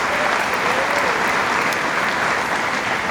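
A large audience at a 2016 high school commencement breaks into loud, sustained applause, a dense, even wash of clapping with faint crowd murmur mixed in.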